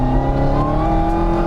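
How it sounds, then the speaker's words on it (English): A 1000-horsepower Camaro ZL1 Exorcist accelerates hard at full throttle, its engine roaring loud and close in a dense, steady blast with no pauses. "But when you actually mash this thing"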